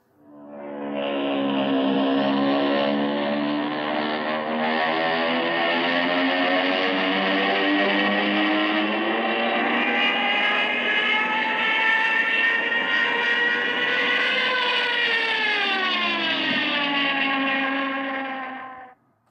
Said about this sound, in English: the Jericho trumpet sound of a diving Stuka.